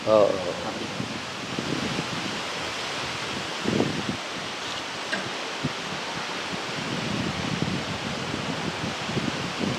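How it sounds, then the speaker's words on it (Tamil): Wind rushes through trees in a forest in a steady, breathy rustle, with occasional louder gusts and soft low thumps beneath. "காற்று இருக்கிறதால ஒரு பெரிய பிரச்சனை."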